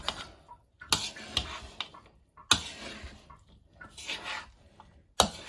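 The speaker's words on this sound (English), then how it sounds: "Let me give this a stir with the flour now" Spoon stirring flour into a cheese pie mixture in a bowl, with irregular scraping clinks and taps against the sides, close and moderately loud, coming in bursts with short pauses between strokes.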